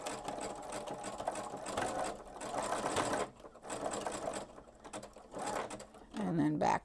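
Embroidery sewing machine stitching freestanding lace, a steady rapid mechanical whir of needle strokes running throughout with brief dips, close and moderately loud, with some faint talk and handling noise near the end.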